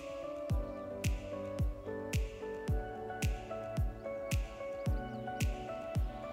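Muffin batter with melted chocolate and milk is stirred in a bowl, giving a steady, regular series of soft wet squishing strokes at about two per second, close and fairly quiet.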